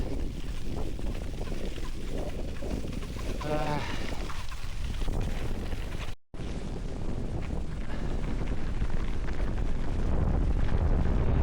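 Cycling into a headwind on a bike tour around the Baltic states, with loud continuous wind buffeting the microphone and a brief dropout midway.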